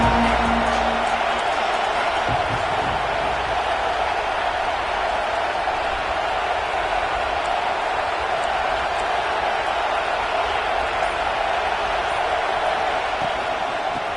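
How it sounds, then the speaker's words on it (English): A stadium crowd in the College Football 26 video game keeps up a dense, steady roar of cheering from start to finish, loud and continuous with no breaks. "This crowd ready to make its presence known."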